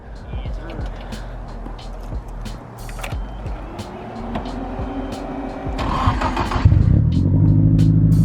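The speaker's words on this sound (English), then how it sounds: "nice little rumble. Yeah, let's give it a little rev" A Nissan 180SX engine with an SR engine rumbles steadily nearby, then swells into a louder rev toward the end, with a voice talking briefly over it.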